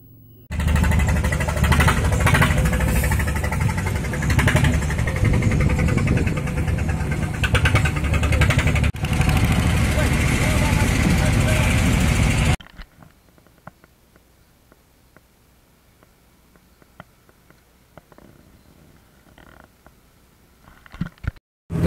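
The engine of a small fishing boat heading out to sea on a fishing trip chugs loudly and steadily for about twelve seconds, then cuts to quiet with faint scattered noises.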